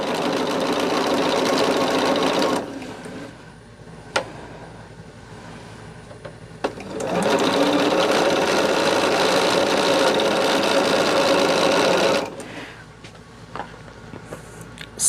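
A home sewing machine stitching quilt pieces for a row assembly, a loud steady motor whir in two long runs with a brief slower pause between, close up and without talk.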